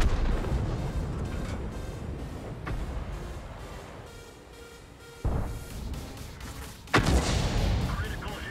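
A tank cannon shot landing a critical hit in World of Tanks, two sharp heavy booms late in the stretch, each followed by a decaying rumble over steady engine and battle noise.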